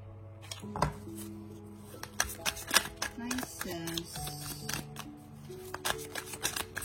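Tarot cards being handled and shuffled up close, a steady run of crisp papery riffles and snaps while soft background music plays underneath.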